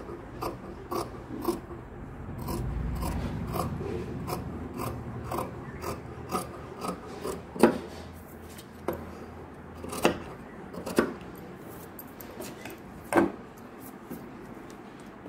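Scissors cutting fabric into a rounded shape for a newborn baby cap, a series of crisp close snips and metallic clicks, irregularly spaced, over faint handling rustle.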